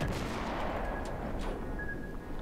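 Naval gunfire from a Japanese Minekaze destroyer in World of Warships, a steady dense roar of cannon blasts and booming reports filling the whole clip with no pause.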